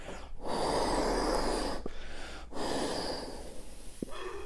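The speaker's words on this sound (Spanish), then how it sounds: "Tenemos el soplete para meter aire en el fuelle" Air blown by mouth through the blowpipe into the bag of an Asturian bagpipe, heard as several long, close breathy blows separated by quick inhalations.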